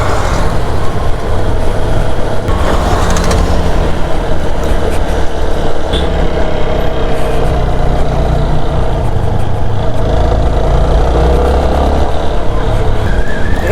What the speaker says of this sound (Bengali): এত রাতে বগালেকে বাইক চালিয়ে যাচ্ছি